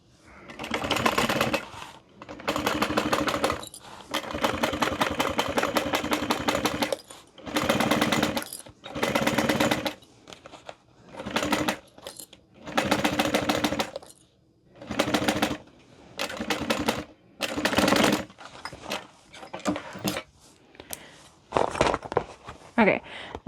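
A sewing machine stitches fabric pieces of a handbag in repeated bursts of rapid mechanical chatter, each run a second or several long, separated by short pauses, close and clear with no talk.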